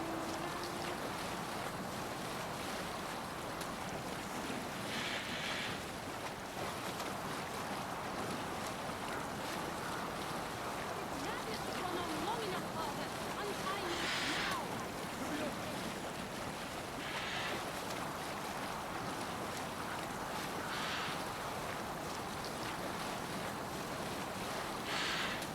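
A boat sails on sea waves in Assassin's Creed Valhalla, with a constant wash of water and wind rushing under the hull, broad and steady throughout, with faint occasional splashes and no clear talking.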